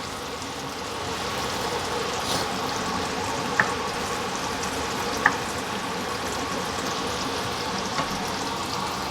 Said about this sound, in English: You can hear the tempering.